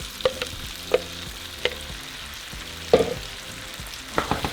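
Beans go into a pan with bacon and sausage for frijoles charros, sounding as a steady close frying hiss with several sharp spoon knocks and scrapes spaced through it, no voices.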